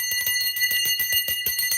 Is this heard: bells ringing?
yes